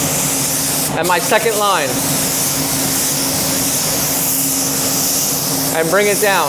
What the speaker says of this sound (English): Then right away, I'm not gonna overdo it, but I'm gonna spray past my little dots here